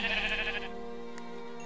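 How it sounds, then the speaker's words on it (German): A single sheep in the video game Minecraft (Tekkit modpack) gives one short, nasal bleat right at the start. It is loud and close, then fades into quiet game ambience, with a faint blip near the end. "Wieso knistern die Schafe eigentlich immer so?"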